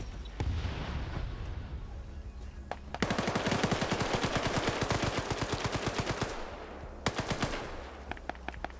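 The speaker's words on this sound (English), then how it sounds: "Ends up in a firefight with Digord" Video game firefight gunfire: long rapid automatic bursts of dense, evenly spaced shots, loud and close, stopping briefly then resuming, with a few isolated shots at the start.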